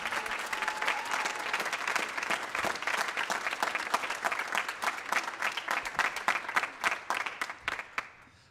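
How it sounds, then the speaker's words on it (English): An audience at a high school band concert claps steadily for several seconds, the applause thinning into scattered individual claps as it fades out at the end. "How about a great round of applause for our other music staff that we have here at the high school."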